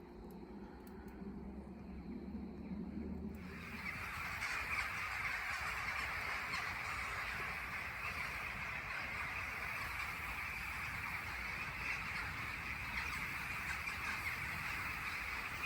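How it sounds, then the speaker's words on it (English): Crows and other birds call noisily outdoors in a winter woodland bushcraft camp, a dense steady chorus at moderate distance, faint overall with no talking. "I'm not sure how long the birds are going to be noisy like this for"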